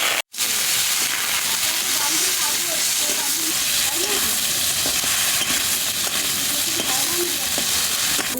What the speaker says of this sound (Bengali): কুমড়ো শাকটা রান্না করার জন্য আমি প্রথমে আলুটা ভেজে নেব